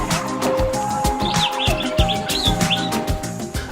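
Birds chirping and calling at the World of Birds park near Cape Town, South Africa, several overlapping tweets and short calls over a steady busy background hum.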